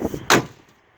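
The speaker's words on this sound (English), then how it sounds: "And if you listen, you'll hear the door shut." A 1935 Dodge four-door touring sedan door shuts with a single solid thump, near and loud, preceded by faint handling noises and then trailing off into quiet.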